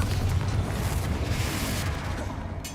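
A Confringo fire spell explodes in Hogwarts Legacy with a loud, rumbling boom that rolls on, dense low energy sustained throughout without a clear break.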